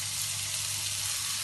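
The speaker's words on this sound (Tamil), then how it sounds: "அதோட 4 பச்சை மிளகாயும் கொஞ்சம் கருவேப்பிலையும் எல்லாத்தையும் போட்டு நல்லா வதக்கி எடுப்போம்." Sliced onion, four green chillies and curry leaves sauté in a pan for Jaffna mutton curry, giving a steady, soft, hissing sizzle throughout with no voices.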